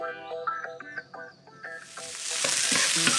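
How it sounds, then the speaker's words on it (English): Cooked meat nuggets are stirred into guava jelly in a pan at a camp, with a few soft clicks and knocks at first, then a rising, steady sizzle takes over. "we're gonna mix that with the guava jelly"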